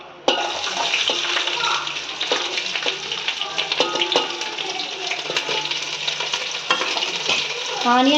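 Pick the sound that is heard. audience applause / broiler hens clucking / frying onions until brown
frying onions until brown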